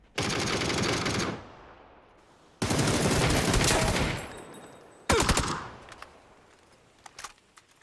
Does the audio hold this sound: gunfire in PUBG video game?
yes